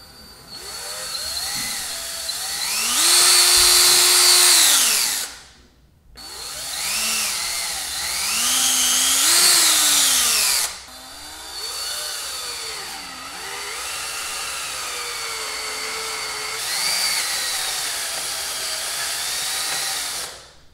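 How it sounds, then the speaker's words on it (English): A power drill whines in three long bursts separated by brief pauses, its pitch rising and sagging as it bites into material, drilling button holes for a portable arcade console, loud and close. "I've drilled my holes now"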